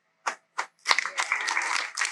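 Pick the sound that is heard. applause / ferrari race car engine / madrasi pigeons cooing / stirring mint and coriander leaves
applause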